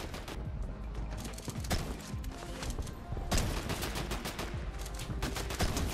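Dense video-game gunfire, with rapid overlapping shots and crashing impacts filling the whole stretch at a loud, continuous level and no clear pauses.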